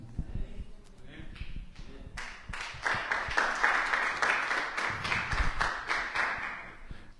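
A church audience claps, building to steady applause that keeps going for several seconds, with some background noise and thumps underneath.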